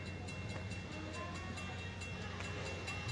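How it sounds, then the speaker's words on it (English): A steam train reverses along the track in Michigan, giving a steady low rumble with faint rhythmic clanking that carries on without a break and without speech. "They're backing the train up now."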